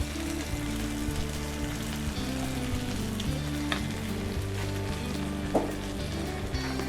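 Cabbage cooks in a pan as part of a Southern corned beef hash dinner, giving a steady, close sizzle and crackle of frying that runs unbroken throughout, with occasional louder pops and no talking.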